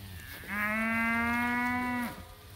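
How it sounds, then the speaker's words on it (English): A single cow moos in a grass paddock, one long, loud, steady call lasting about a second and a half over quiet outdoor background. "Cattle look good."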